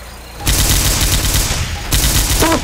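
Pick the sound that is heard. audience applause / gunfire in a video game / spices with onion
gunfire in a video game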